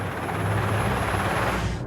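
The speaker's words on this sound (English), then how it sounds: "I can hear the blades of a helicopter" Helicopter blades chopping loudly and continuously, a close, heavy rotor drone with a low throbbing pulse that holds steady throughout and fades slightly at the very end.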